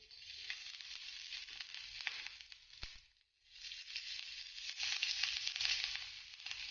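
Oil sizzles quietly in a pan while making green chili thecha, a soft, steady hiss with a short dip in the middle, heard alone without talk.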